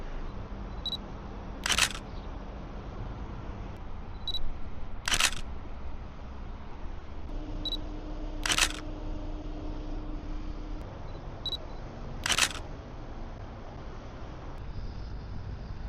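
A camera shutter clicks while photographing a car on the street, firing four sharp single shots spaced about three to four seconds apart over a low steady background hum.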